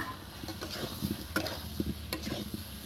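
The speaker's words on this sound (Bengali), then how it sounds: "এবার এটাকে মশলা দিয়ে ভালো করে একদম নেড়ে চেড়ে একদম ভালো করে কষে নেব" Fried potatoes being stirred into spice paste in a pan for bhoger aloo dum, with soft scraping and light clicks of the spoon over a faint, steady sizzle, close and quiet.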